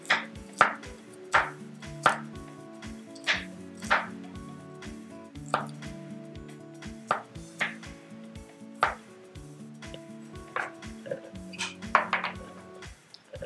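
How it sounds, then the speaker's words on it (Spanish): Peeled garlic cloves crushed with a little salt in a mortar, a steady series of sharp, ringing pounding knocks repeated about once or twice a second, close and without talk. "Y lo vamos a machacar con un poquito de sal para hacer una pastica."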